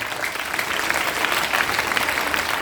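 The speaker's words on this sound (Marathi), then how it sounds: "कविता आवडली असेल तर जोरदार टाळ्या वाजवा सगळ्यांना" Schoolchildren and audience applauding after a poem recited at a Marathi Language Day school event: dense, even clapping from many hands, sustained and fairly loud without pause.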